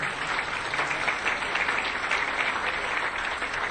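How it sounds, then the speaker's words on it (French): Audience applause at an African Leadership Awards event, called for a man named Mbagnick Diop: steady, dense clapping from a sizable crowd that holds evenly throughout without a voice over it. "je vous demanderai d'applaudir très fort mon ami Mbagnick Diop"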